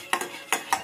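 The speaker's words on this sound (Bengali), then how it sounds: "এটা নাড়তে হবে, কিন্তু ধরে গেলে মুশকিল, এটা নাড়তেই থাকতে হবে ক্যারামেলটাকে" A spoon stirring melted sugar caramel in a pan as it darkens for a bread caramel pudding, giving three short scraping strokes close by, with a pause before the last two.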